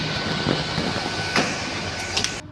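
A train pulls into a station with a dense, loud rumbling roar of wheels and carriages close by, steady throughout the few seconds with faint squeaks and clanks.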